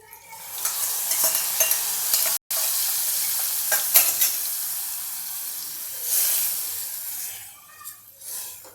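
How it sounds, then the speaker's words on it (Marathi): Boiled cluster beans dropped into a hot pan for a mung dal dish, sizzling loudly with hissing steam and scraping stirs, close up, rising and falling in bursts with a brief silent gap. "आता मी यामध्ये ही गवार टाकते"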